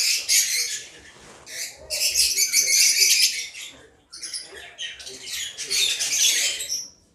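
African lovebirds in a cage setup on a home bird farm let out bursts of loud, shrill chattering calls, rising and falling in dense clusters close by.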